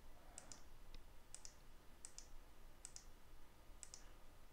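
A computer mouse clicks boxes on a screen in quick double clicks, five pairs spaced about a second apart, crisp and faint over a low background hiss.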